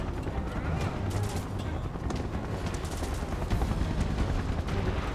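Rapid gunfire crackles in bursts through a Final Fantasy 7 Remake battle, dense and continuous over a busy background, with game voices shouting over it.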